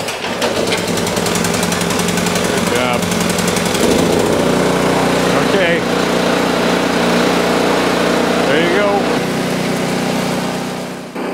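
A snow blower engine runs loud and steady at close range, a rough continuous mechanical drone with faint voices talking beneath it.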